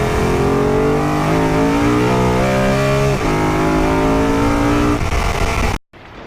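A Lancia Delta Integrale Evo 2 engine revs loud and close, its pitch climbing and falling in stepped sweeps over several seconds before cutting off abruptly, with no talking.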